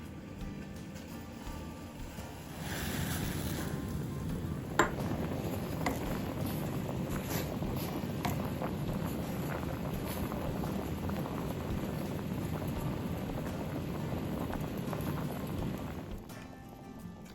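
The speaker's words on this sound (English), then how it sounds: "now our water is at a raging boil, so we're going to go ahead and pour in our barley." A pot of water at a raging boil for cooking barley gives a continuous bubbling churn with a single sharp clink partway through.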